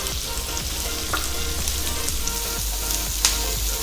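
Sliced onion frying in a pan for Kolhapuri mutton rassa, a loud, dense, continuous sizzle heard up close with faint stirring scrapes beneath it and no voices.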